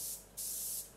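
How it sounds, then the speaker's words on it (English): Close, steady hiss of spray paint being applied to a guitar body, coming in two bursts: a short one at the start and a longer, louder one after a brief pause. "The spraying sessions on this project were the best that I had had to date."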